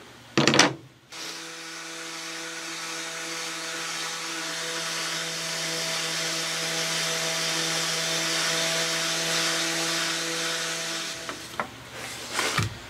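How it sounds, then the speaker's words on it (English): A rotating palm sander fitted with 220-grit paper and a vacuum hose, smoothing wood on a 1934 Ingraham Bedford wall clock case, runs with a loud steady whine for about ten seconds, then winds down, with bumps of handling at start and end. "it's a rotating palm sander with a 220 to clean this up. And it's kind of loud. I got my vacuum hooked up to it."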